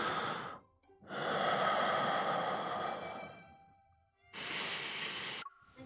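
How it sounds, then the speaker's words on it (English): A person dozing beside someone at a performance breathes slowly and audibly, with two long, airy breaths up close that are split by a brief quiet gap. "The sound of steady breathing was next to me."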